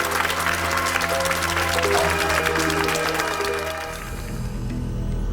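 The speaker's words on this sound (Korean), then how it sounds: "큰 박수 보내주십시오." Studio audience clapping to welcome a guest on a Korean antiques appraisal TV show, steady applause over a bed of musical tones, with the music shifting near the end.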